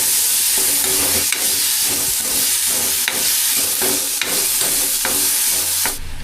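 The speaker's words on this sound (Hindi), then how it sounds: "टमाटर डाल दिया, अब इसको अच्छी तरह से फ्राई कर लेता हूँ तेल के अंदर।" Loud, steady sizzling of tomatoes frying in hot oil, broken by regular scraping strokes of a spoon stirring the pan.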